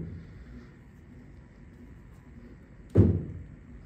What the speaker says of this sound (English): as long as you can open and close the door